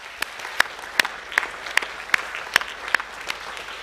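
A school assembly audience applauds at an academic awards ceremony, a steady crowd clapping texture with a regular run of louder, sharper claps standing out roughly every half second.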